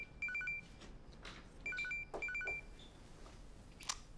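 A telephone rings late at night, its electronic trill coming in short repeated bursts, faint and somewhat distant, with no talk over it.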